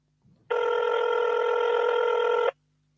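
A single continuous electronic ringing tone from a telephone call placed by accident, starting abruptly after a brief faint rustle and holding steady and loud for about two seconds before cutting off.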